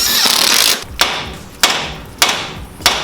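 Sharp metal hammer blows strike a seized coilover part on a Mazda 3, four loud, close impacts spaced roughly half a second apart, each ringing briefly before the next.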